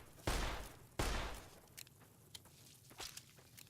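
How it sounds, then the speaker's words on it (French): Two loud, sharp shotgun blasts go off in Fallout New Vegas, each with a brief decaying tail, followed by fainter scattered clicks and thuds. "Fusil à pompe."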